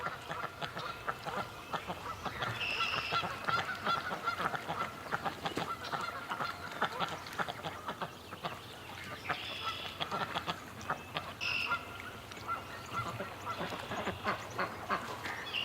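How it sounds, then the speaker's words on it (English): Ducks quack in bursts around a goose that honks now and then, a lively mix of waterfowl calls close by, outdoors with no talk. "Okay, these ducks are courting Goose Lee."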